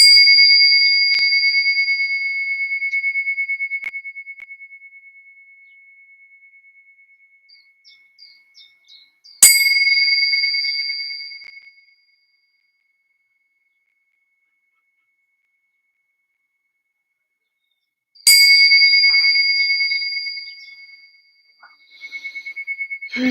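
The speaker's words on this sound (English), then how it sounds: "I wanted to start the concert by ringing these bells for John." Three clear bell strikes ring out one at a time, each a pure sustained tone slowly fading into silence before the next, with long quiet gaps between.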